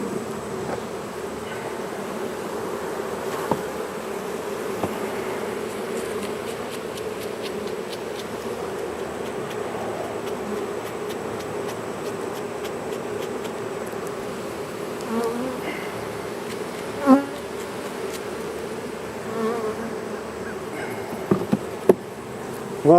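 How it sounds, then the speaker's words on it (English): Carniolan honey bees buzz in a steady, dense hum around an open hive, the droning swarm sound continuous and close, with a few sharp knocks of hive equipment near the end. "they're a hard-working bee"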